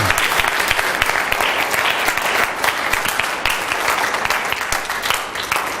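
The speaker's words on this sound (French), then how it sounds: "Donne-lui un grand applaudissement, Seigneur." A church congregation applauds loudly and continuously during a sermon, dense clapping with no break.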